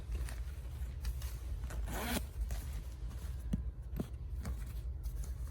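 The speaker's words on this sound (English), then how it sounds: "I love the chunky zippers on this bag." The chunky zipper of an MZ Wallace Metro Quatro tote bag is pulled in several quick rasping runs, close and crisp, with small clicks and handling rustles between them.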